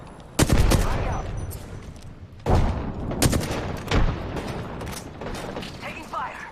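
Loud bursts of automatic gunfire from a Call of Duty video game come in several rapid volleys separated by short gaps, with mechanical clatter between the shots.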